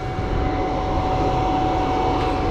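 Farm tractor engine running steadily during planting in dry conditions, a loud, constant low drone with a faint whine and no talking.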